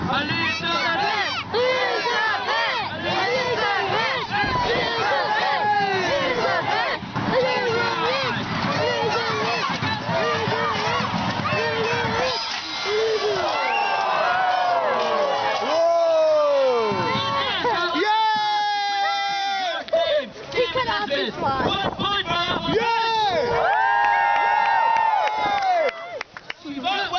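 Spectators at a Sherwood Forest jousting tournament shout, scream and cheer for a knight. Many loud, overlapping voices rise and fall in long whoops and cries, with a few sharp shouted calls standing out near the end.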